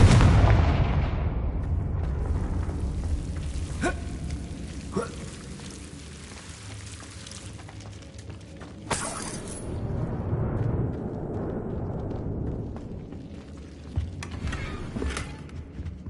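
Spell-cast explosions in a video game, a booming blast at the start followed by sharp cracks and bursts over a rumbling, rain-like crackling bed, with louder pops near the end.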